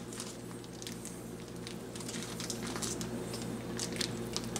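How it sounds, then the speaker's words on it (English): Hot dogs being placed into a pot of hot water on a stove, giving soft squishy splashes and wet handling noises over a steady low kitchen hum. "I'm just going to place these hot dogs in here."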